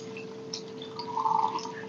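Chilled water poured into a mixer jar holding chopped muskmelon, sugar and ice makes a soft, faint trickle that swells briefly near the end of the short stretch.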